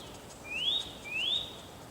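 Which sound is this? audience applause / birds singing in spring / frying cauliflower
birds singing in spring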